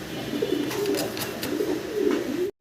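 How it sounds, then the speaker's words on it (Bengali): Pigeons coo close by in soft, repeated throaty phrases, with a faint flutter of movement in between. "দর্শক ভিডিও স্ক্রিনে আমরা খুব সুন্দর একজোড়া কবুতর দেখতে পারতেছি"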